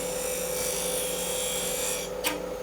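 A parting tool cuts a tenon into wood spinning on a lathe, producing a steady, continuous scraping hiss with a constant motor hum underneath and a brief sharper scrape near the end.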